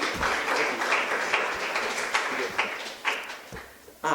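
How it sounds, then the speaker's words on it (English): An audience at a book launch for a children's book applauds steadily. The dense, even clapping fills the room for several seconds and is fairly close, with a few sharper claps standing out near the end. "Give yourselves a round of applause for coming, actually."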